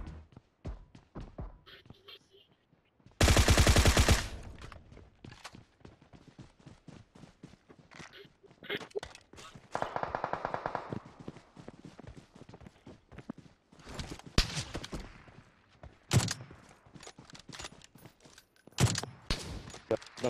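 Gunfire in a battle royale video game arrives in scattered bursts and single shots, some loud and near and others farther off, separated by quieter stretches of movement and game noise.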